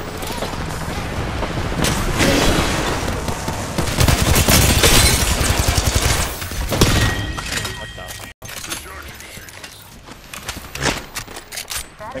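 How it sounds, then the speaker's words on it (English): Gunfire erupts in a shooter video game, dense bursts of rapid shots and impacts stacking into a loud fusillade, easing after a brief cutout, with voices talking over the action. "that is getting shot from the other side"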